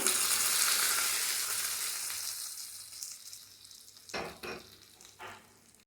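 Hot tempering with curry leaves poured into potato curd gojju, a broad bright sizzle that starts loud and slowly fades, followed by a few short clinks or stirring knocks near the end.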